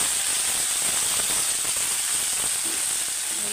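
Marinated chapila fish poured into hot oil, a loud dense steady hiss and sizzle throughout, with no talking.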